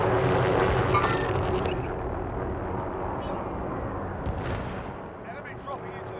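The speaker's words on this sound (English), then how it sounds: "The helicopter's out here." A helicopter in a Call of Duty Modern Warfare match, a loud sustained rotor and engine roar blended with booming gunfire and explosion rumble that slowly fades, with brief game effects near the end.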